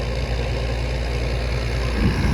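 A Holland 5500 tractor engine runs under load pulling a superseeder in a field, a steady low rumbling drone that holds even and close throughout with no talk.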